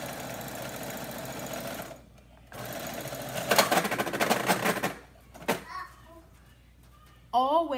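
A sewing machine stitches a back tack on an Ankara fabric scarf, a fast close mechanical whirring in two bursts separated by a pause, followed by brief clicks and a voice speaking.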